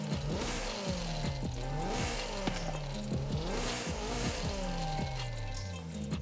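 A 350 hp Nissan S14 drifts in Forza Horizon 5, its engine revving up and down in repeated sweeps with bursts of tire squeal. The sound is loud and continuous.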